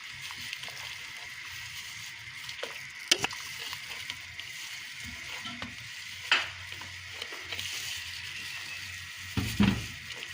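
A spoon stirs a sweet sabudana dessert mixture in a pan. Soft, steady scraping and faint sizzling go on quietly throughout, with a few sharper clinks of utensil on metal.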